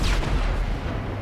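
Heavy gunfire at a military base in GTA 5, a dense, continuous roar of booming shots with no clear gaps, loud and close throughout the short stretch.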